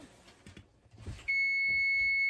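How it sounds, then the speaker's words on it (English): A kitchen timer goes off beside an oven while a tamale pie bakes, a loud steady electronic beep tone starting abruptly after a moment of quiet kitchen clatter and continuing unbroken to the end. "timer's going off."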